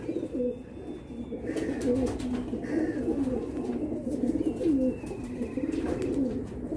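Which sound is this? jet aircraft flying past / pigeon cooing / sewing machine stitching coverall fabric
pigeon cooing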